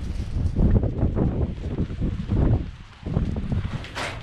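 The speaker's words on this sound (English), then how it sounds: "It's just too windy" Strong wind buffets the microphone in heavy, uneven rumbling gusts at a coastal sand fort on the Humber Estuary, easing briefly near the end before picking up again.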